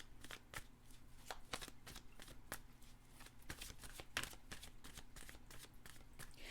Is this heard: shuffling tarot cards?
yes